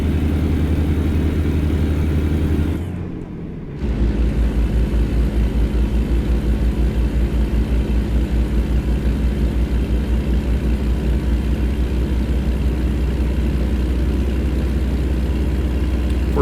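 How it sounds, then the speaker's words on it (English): Truck engine braking in American Truck Simulator on a heavy rig hauling 78,000 pounds: a steady low rumbling drone that briefly drops out, then resumes with a rapid pulsing throb, loud and continuous, no talk. "is there a setting on the engine brake to where there's like a low, medium, and high setting?"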